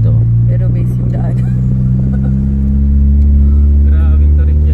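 A car engine drones steadily and low as the vehicle climbs steep, sharply winding mountain roads in Tuba, Benguet, holding a continuous loud hum with faint voices underneath.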